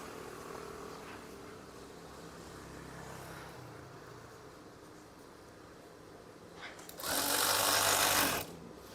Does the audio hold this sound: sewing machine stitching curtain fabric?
yes